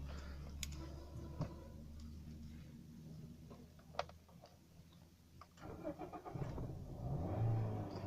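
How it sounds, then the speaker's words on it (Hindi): A quiet 2011 Toyota Corolla GLi 1.3 engine turns over and catches, its low rumble rising and settling into a steady idle after a few faint ticks. "गाड़ी को हमने स्टार्ट कर लिया।"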